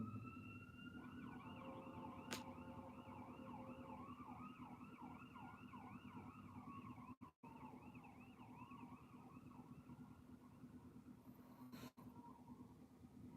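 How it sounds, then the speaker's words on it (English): Wailing emergency sirens, several overlapping, rising and falling continuously over steady traffic-like rumble at a moderate distance. "Look, sirens again"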